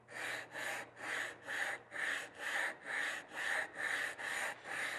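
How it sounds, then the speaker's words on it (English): A Norton waterstone is rubbed flat on a ceramic flattening plate in about ten steady back-and-forth strokes. The gritty rasping is close and evenly paced, with no talking. "I use a ceramic flattening plate because it's really fast."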